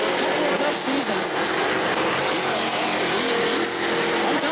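Race cars roar around the oval at New Smyrna during heat races, a dense, loud engine wash filling the whole stretch with shifting whines as cars pass, crowd and announcer noise blended underneath.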